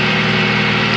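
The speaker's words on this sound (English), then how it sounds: "It runs, it idles." A Dodge Dart's 2.4 engine idling with a lightweight pulley fitted, a loud, steady close-up hum with an even low pulse and no variation.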